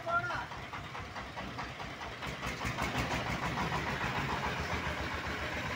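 A Sigma 30hp diesel engine powers a motor van, running with a steady, rumbling chug throughout, with faint voices in the background.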